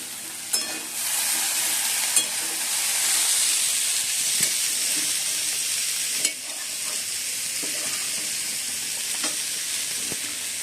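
Bitter gourd and potatoes frying in a pan, a steady hiss and sizzle throughout with occasional clinks and scrapes of stirring, close and continuous, no voices.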